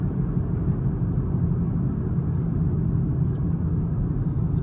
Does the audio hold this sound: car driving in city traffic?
yes